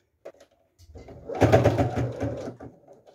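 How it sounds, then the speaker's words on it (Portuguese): A sewing machine stitching fabric for a phone and card holder, a couple of faint clicks then a short burst of close, whirring needle action for about a second before it stops. "retiro a peça da máquina e costuro do outro lado o mesmo jeito."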